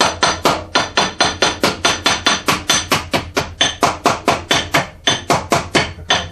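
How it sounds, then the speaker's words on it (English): A hammer beats a round bend into sheet metal like a race car wheel well, loud rapid metallic blows in an even, continuous rhythm of about four strikes per second, close up and alone. "we take a hammer in our shop"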